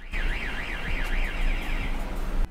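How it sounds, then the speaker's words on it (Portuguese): A car alarm blares loud and close, its siren warbling up and down in a steady repeating sweep over constant background noise, cutting off abruptly near the end. "Disparou o alarme, ó."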